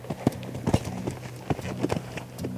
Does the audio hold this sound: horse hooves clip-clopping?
yes